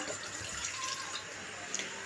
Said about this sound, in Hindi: ये बालाई है हमारी, इसमें हमने पानी डाल लिया